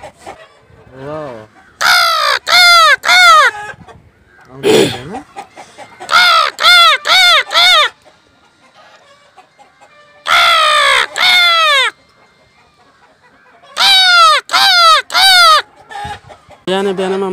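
Loud, harsh crow caws in Palpa, Nepal, repeated in tight runs of three or four, separated by silent gaps and scattered fainter calls.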